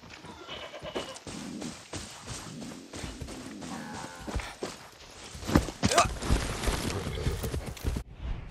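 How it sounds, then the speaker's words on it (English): Horse hooves clip-clop in Far Cry 6, a steady rhythm of close hoofbeats under ambient game noise, growing louder and busier toward the end. "That's a good horse."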